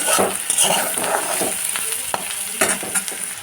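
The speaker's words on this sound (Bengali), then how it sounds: "সবজি বাদাম একসঙ্গে ভালো করে এবার ভেজে নেব" Vegetables and peanuts stir-fried together in a pan give a loud, steady sizzle, with the clatter and scrape of stirring breaking in at irregular moments close by.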